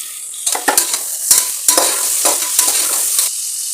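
Chopped onions and tomatoes fry in hot oil for a Sunday prawn biryani, a steady close sizzle broken by several loud scraping stirs of a spoon against the pan, with no talking.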